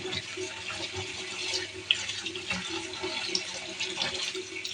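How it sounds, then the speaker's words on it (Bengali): Taro leaves are washed by hand in water, with steady splashing and trickling, and soft sloshing and handling noises at a moderate, close level. "হয়ে গেছে আমার ধোয়া, ধোয়া হয়ে গেছে।"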